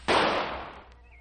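A single gunshot fired at a flower, a sudden loud crack with a long, broad noisy tail that fades out over about a second, heard alone outdoors.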